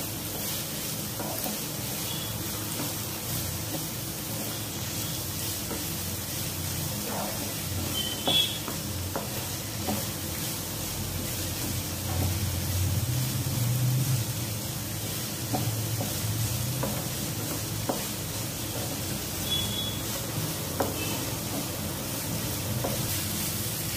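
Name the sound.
capsicum sautéing in oil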